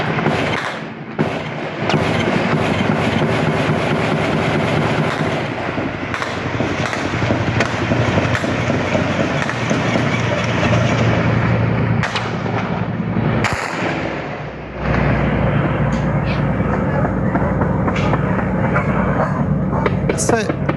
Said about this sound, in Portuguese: nós separamos um trecho desse intenso tiroteio